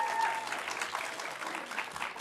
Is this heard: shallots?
no